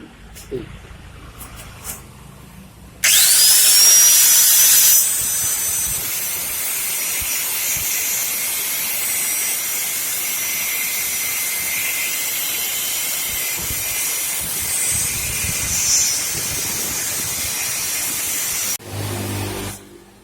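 An angle grinder bites into a workpiece with a sudden loud, harsh shriek, then settles into a steady, close grinding roar that runs for about fifteen seconds before cutting off abruptly.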